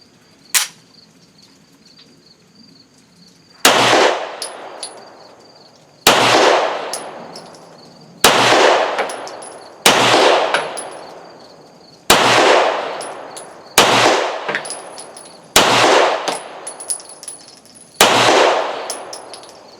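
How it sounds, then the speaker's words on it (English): Shots from a Walther P1 P38 9mm pistol fired through a magazine: nine sharp, loud cracks after a small metallic click, spaced about two seconds apart, each with a ringing, decaying tail, no speech. "So, we'll try another mag."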